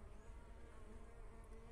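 Mandaçaia bees buzz around a wooden hive box, a soft, continuous swarm drone heard quietly throughout.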